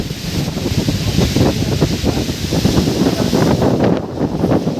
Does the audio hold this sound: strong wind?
yes